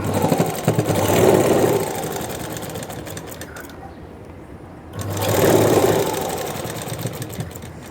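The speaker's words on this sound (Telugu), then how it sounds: "ఇప్పుడు ఈ మార్కింగ్ కలుపుతూ ఒక కుట్టేయండి" A sewing machine stitching the side seam of a blouse, running in close, loud whirring bursts with a short pause in the middle.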